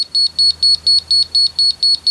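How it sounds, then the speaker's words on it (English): A laser level receiver beeps while leveling a rock base in a basement: a loud, close, high-pitched tone pulsing rapidly and evenly, about nine beeps in two seconds, with no talk. "until we get a solid beep with this sitting on top"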